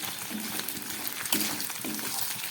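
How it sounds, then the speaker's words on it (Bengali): Dried fish (shutki) frying in a pan, a steady soft sizzle and hiss of hot oil, close and fairly quiet, with faint occasional stirring. "শুটকি মাছটা ভাজা বসিয়ে দিয়েছি ডিম ভাজার পরে এবার এটাকে একটু ভালো করে ভেজে নেব"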